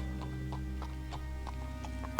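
Horse hooves clip-clop in an even, steady rhythm in The Last of Us, moderately distant over a constant low hum, with a sharp knock at the very end.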